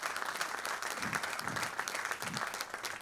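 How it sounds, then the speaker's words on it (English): A conference audience at a supply chain management conclave gives a round of applause to welcome a keynote speaker. The clapping is soft and somewhat distant, steady and dense, over about three seconds. "With a loud round of applause, let's welcome Mr."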